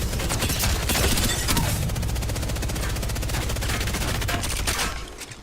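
Automatic gunfire in Apex Legends, a rapid, evenly spaced stream of close shots sustained for about five seconds before cutting off.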